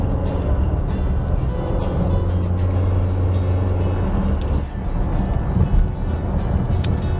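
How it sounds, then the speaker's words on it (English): Engine of a Fisker Karma plug-in hybrid droning loudly while driving, a steady low rumbling hum with road noise, continuous and close inside the car. "this engine in this capacity is just loud in an unattractive way"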